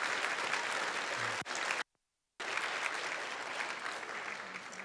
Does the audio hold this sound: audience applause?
yes